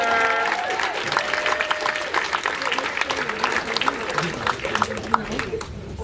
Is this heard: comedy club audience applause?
yes